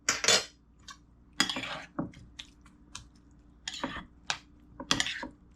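Baigan choka being mixed in a bowl with a utensil, sharp clinks and wet squishing scrapes in irregular bursts, several close strokes separated by short quiet gaps.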